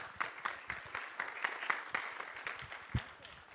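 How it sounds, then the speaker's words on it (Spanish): An audience at a public-policy talk applauds a speaker, a steady patter of many hands clapping at moderate distance with brief voices mixed in. "Un aplauso fuerte para Mariana Orozco."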